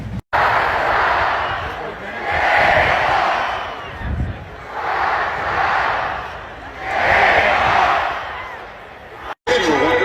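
A stadium crowd with a rowdy student section roars before a football game under the lights, swelling in about four rhythmic chant-like surges, loud, full and continuous.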